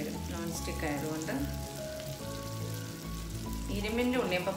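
Unniyappam batter frying in a non-stick unniyappam pan makes a soft, continuous sizzle that stays quiet beneath melodic background music throughout.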